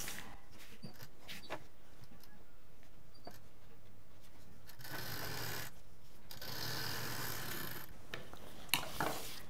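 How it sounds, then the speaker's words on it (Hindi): An overlock finishing sewing machine stitches the edge of a transparent utility bag, giving two faint sustained whirring runs of about a second each between quiet handling noises. "इस पर एक फिनिशिंग की मशीन चला देंगे और इसको यहाँ पर चौड़ाई देते हुए इस तरह से फिनिशिंग दे देंगे"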